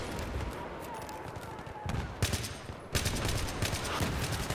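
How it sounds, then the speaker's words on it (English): Battlefield 3 gunfire during a Seine Crossing match, bursts of rapid shots and sharp volleys layered over dense battle noise, with louder blasts near the middle and end. "Not sure who I'm shooting at here."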